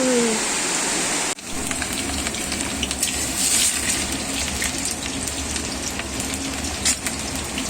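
Steady rain falls outside a house on a June day, a dense, even hiss of patter that drops out briefly near the start before resuming, with no voices over it.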